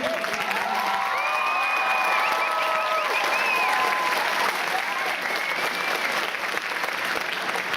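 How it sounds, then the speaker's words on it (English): Sustained applause from a crowd at a robotics district event opening ceremony, steady and fairly loud throughout, with a few cheers and raised voices mixed in. "Let's give a round of applause for Eric"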